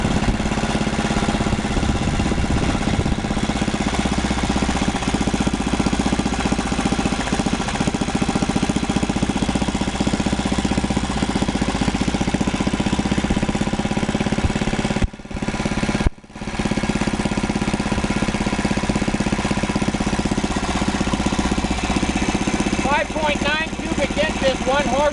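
A 1939 Lauson RSM 1 hp air-cooled inboard boat engine runs steadily and loudly up close for a long stretch, with a brief dip in the sound partway through as the throttle is worked.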